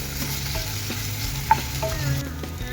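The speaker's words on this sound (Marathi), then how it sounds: "इथं बघा हलकासा कांदा आपला भाजून झालेला आहे" Onion fried lightly in a pan for restaurant-style paneer lababdar, stirred with a spoon: steady close sizzle with intermittent scraping strokes and one sharp metallic clink, no voices.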